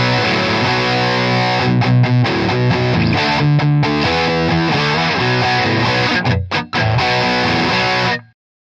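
Maybach Albatross electric guitar played through a Wampler Ratsbane distortion pedal into a Fender Deluxe Reverb amp, loud saturated chords ringing continuously, briefly choked near the end before one last sustained chord cuts to silence.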